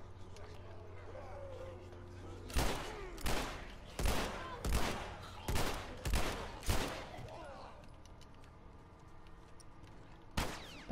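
Pistol fired in The Last of Us Remastered, a run of about eight sharp, loud shots spaced roughly half a second apart, a pause, then one final shot over faint game ambience.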